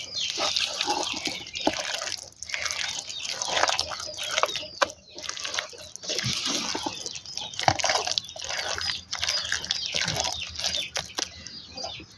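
Half a kilo of cooking oil is poured close up into a tomato and flat-bean pickle mixture, making a steady trickling, splashy flow with scattered drips and little else heard.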